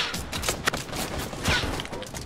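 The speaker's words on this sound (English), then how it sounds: "Someone else is shooting." Gunfire in the video game Fortnite: a few sharp shots crack out in a busy, dense game mix, with bursts near the middle and end standing out over steady background noise.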